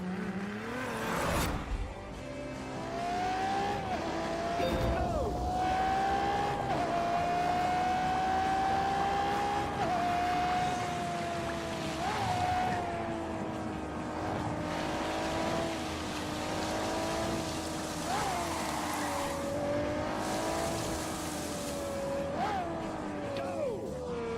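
A Ferrari engine drones and rises in pitch as the car is driven in The Grand Tour video game, a loud, sustained, close revving tone with gear-shift dips and skids; a voice talks over it.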